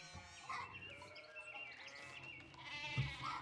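Sheep bleating in a rural setting near an abbey, with calls coming and going over a steady background of bird chirps and tweets.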